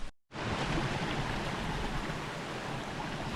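A jungle stream flows along a family trekking trail to Mulde View Point, giving a close, continuous murmuring rush of water that begins after a brief cut at the very start.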